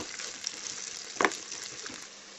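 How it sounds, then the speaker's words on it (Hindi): Boiled, cut potatoes crisping in a hot pan with curry leaves for sabudana khichdi, a close, bright sizzle with a brief louder crackle and stir partway through, no voices. "2 मिनट तक इसको भून लेंगे ताकि अच्छे से आलू क्रंची हो जाए।"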